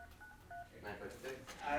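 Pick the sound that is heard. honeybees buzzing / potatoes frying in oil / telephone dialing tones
telephone dialing tones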